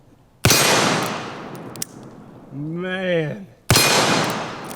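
Two deafening shots from a Toklat 454 Casull revolver, each a sharp close blast with a long ringing decay, separated by a man's brief spoken exclamation between them.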